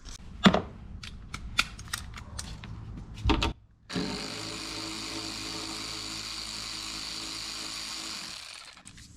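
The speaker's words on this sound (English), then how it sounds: "I'm going to pop these off with that 10mm socket and just see" Plastic trim clips on a 5th Gen Toyota 4Runner's rear interior are pried loose with a 10mm socket, giving a few sharp, scattered snaps and clicks close by. A steady whooshing noise then runs underneath until the end.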